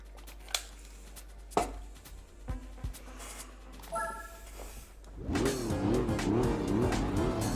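Race cars at a standing start on Gran Turismo 4's El Capitan course: scattered clicks and short tones, then engines rise into a revving, wavering roar with tire noise as the pack pulls away.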